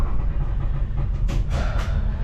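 A train rumbles with a loud, continuous roar, broken by a few sharp hissing bursts partway through, with no voices.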